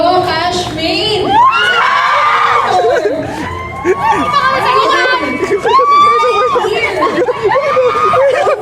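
A crowd of shouting, cheering voices fills an awards moment as a winner is named. The loud, continuous mix of excited yells and screams rises and falls throughout.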